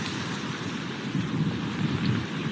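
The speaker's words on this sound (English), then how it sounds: "already the rain and the wind is stunning" Hurricane in St. Petersburg, Florida: heavy rain and high wind roaring steadily with low gusting rumbles, loud and dense throughout without speech.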